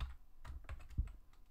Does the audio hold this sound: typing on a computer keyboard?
yes